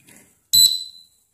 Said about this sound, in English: If any of sensor loose, it will alarm.